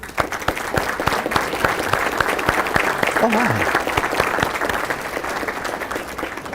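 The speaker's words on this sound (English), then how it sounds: "so that I could just get you a round of applause for everything you've done" An audience applauds county chamber board members at a State of the County address. The clapping is loud and sustained for the whole stretch, and a voice briefly exclaims partway through.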